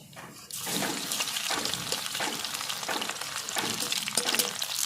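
Nigella seeds and chopped garlic frying in hot oil, starting with a sudden burst of loud, crackling sizzle that continues densely to the end, with faint stirring scrapes.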